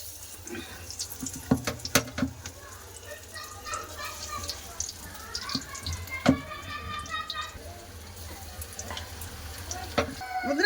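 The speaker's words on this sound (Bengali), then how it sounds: "খুব সুন্দর করে লাল করে ভেজে নিয়েছি আর তুলে নেব বাকি যা আছে এবার সব ভেজে নেব" Pea fritters frying in oil, with a continuous sizzling hiss and scattered sharp pops and clicks, some louder near the start and middle, beneath a woman's speech.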